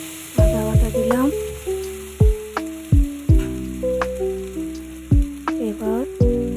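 Ginger paste sizzles in a hot pan with turmeric added just before. A spoon scrapes through it in rhythmic strokes about once a second over a steady frying hiss, close and fairly loud, with no speech.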